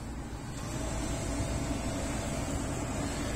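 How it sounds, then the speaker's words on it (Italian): Cabin fan of a 2009 Daihatsu Terios 1.5 pushing air through a new pollen cabin filter, ignition on first position; a steady broadband whoosh that rises slightly after the start, then holds constant and close, with no talking. "si sentirà l'uscita dell'aria che adesso passa attraverso il filtro"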